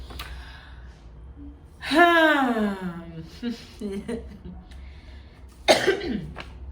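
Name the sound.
person coughing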